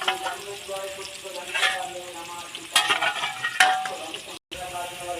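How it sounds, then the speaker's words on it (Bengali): Potatoes frying in oil for a mutton curry sizzle softly up close, with occasional scraping and clinking surges as the pan is stirred, then a short break near the end. "আলুটা ভাজা হয়ে গেছে তুলে নেবে"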